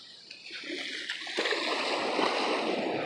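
Cold water splashes and churns as someone wades in, a continuous near swishing that builds over a few seconds, with no speech.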